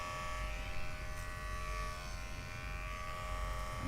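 Electric clippers shaving a head at a head-shaving event, a steady close-up buzz that runs unbroken with no talk over it.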